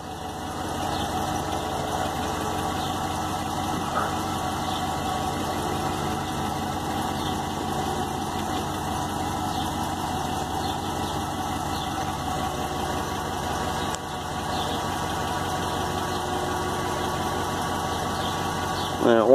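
A Jeep 5.7 liter Hemi V8 idles steadily, with a light repetitive ticking from an exhaust leak riding over the constant engine hum and a faint electrical whine, close and even throughout.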